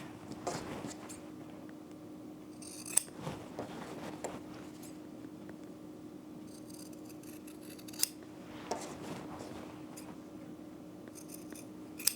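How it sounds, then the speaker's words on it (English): Scissors snip the corners of fabric pockets for a handmade tote bag, giving a few sharp, separate cuts with quiet handling rustle between them in a calm room. "And my pockets, I am going to trim down the corners."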